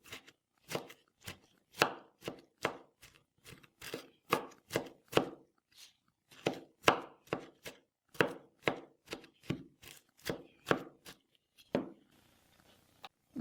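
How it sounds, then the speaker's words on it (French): Artichoke stems chopped on a cutting board with a knife, about two dozen crisp close cuts in quick rhythmic runs with a brief pause midway. "et je vais couper."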